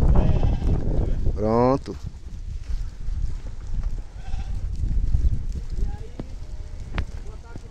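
Santa Inês sheep bleat close by on a farm at feeding time, one clear wavering bleat early on and fainter calls later, over a rough, noisy outdoor background with someone talking briefly.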